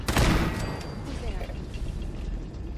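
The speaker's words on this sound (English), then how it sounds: "Then I'm gonna take a shot at that turret." Gunshots fired at a turret in Fallout 4, an opening burst of sharp cracks followed by a rumbling tail and faint mechanical clanks, fairly loud and close.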